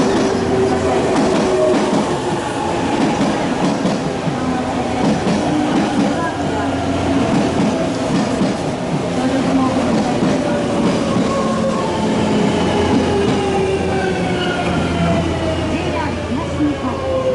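A train rumbles steadily into Matsumoto Station, wheels clacking and brakes squealing in rising and falling tones as it slows, loud and close throughout.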